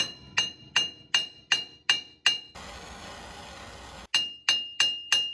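A hammer pounds a stuck wheel stud on a Ford F-150, delivering sharp metallic strikes in a steady rhythm, a short stretch of hissing noise, then more evenly spaced blows.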